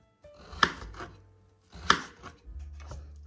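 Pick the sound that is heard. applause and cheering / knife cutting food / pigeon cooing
knife cutting food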